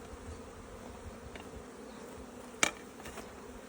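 Honeybees buzz steadily in an opened Bee Cube hive, a constant close hum broken by one brief sharp click near the end.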